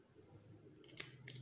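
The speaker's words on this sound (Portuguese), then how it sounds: "E eu corto aqui o excesso com a minha tesoura" Scissors snip through excess ribbon while a school hair bow is assembled on a template, two crisp close cuts near the end with a faint handling rustle before them.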